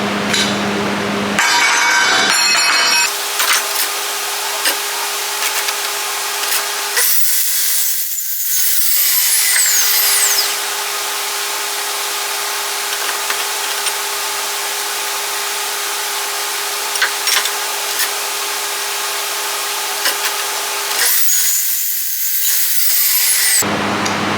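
A power tool cuts metal conduit pieces for a bracket in a workshop, in a few loud grinding bursts of a couple of seconds each, separated by a steady humming drone.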